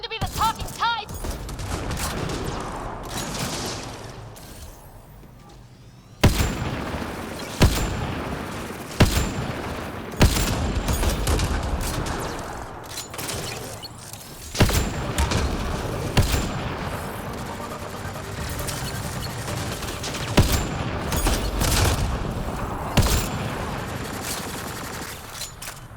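Gunfire in the video game Mass Effect Andromeda crackles in scattered volleys and sharp bursts, some loud booms among them, while characters talk over the combat.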